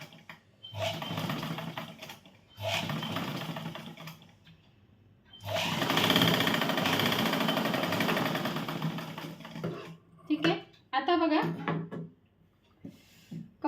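A sewing machine stitches a katori blouse in short bursts and one long steady run of close mechanical whirring, with someone talking in the pauses and cloth handled near the end.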